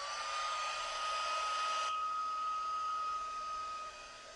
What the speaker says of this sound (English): And then I'm going to take my heat tool.